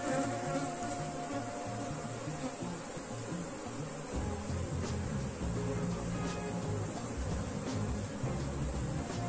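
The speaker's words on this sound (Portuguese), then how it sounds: "Enxame bem grande." A large swarm of honeybees buzzes continuously and steadily close by, a dense droning hum with no voices over it.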